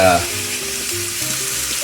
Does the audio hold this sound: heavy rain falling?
no